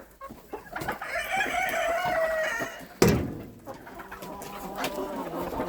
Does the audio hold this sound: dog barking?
no